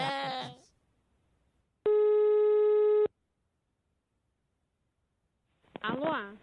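A telephone rings once with a single steady electronic call tone about a second long, set between short bursts of voice on a Brazilian radio show.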